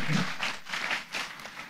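Audience applause in a church healing service, a steady wash of many hands clapping together for a little under two seconds, moderately loud and continuous with no talk over it.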